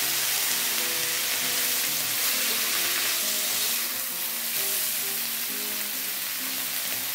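Bitter gourd stir-fried in a pan on lowered heat gives a steady, dense sizzle that stays loud and close throughout, a continuous frying hiss with no voices.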